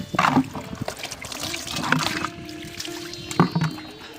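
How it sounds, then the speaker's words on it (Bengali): Water running unattended from a tap, a steady trickling splash broken by a few hollow knocks and clanks, with a faint hum in the background. "কলে কেউ নেই ফাঁকা জল পড়ে যাচ্ছে"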